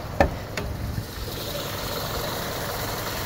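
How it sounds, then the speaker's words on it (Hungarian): A Mazda 6 GTA station wagon with a 2.5-litre engine idles close up, a steady low hum after a couple of sharp clicks at the start, with no talking over it. "motort hallgassuk meg egy kicsit közelebbről"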